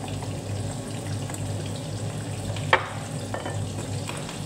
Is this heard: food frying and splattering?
yes